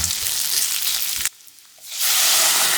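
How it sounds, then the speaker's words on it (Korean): Potatoes stir-fried in a pan with garlic, a loud continuous sizzle that cuts out briefly in the middle and then returns even stronger. "감자를 넣고 2분 골고루 코팅하듯 볶아주세요"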